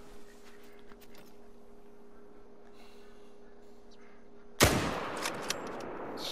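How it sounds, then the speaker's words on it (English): Single rifle shot at a fallow deer in a hunting video game, one sharp loud crack with a short rolling tail, following a quiet stretch of faint ambient background. "This guy definitely did not hear the gunshot."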